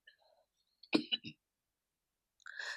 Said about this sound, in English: Sorry guys, I had to cough.